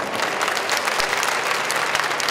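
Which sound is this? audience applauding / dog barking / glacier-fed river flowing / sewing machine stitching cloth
audience applauding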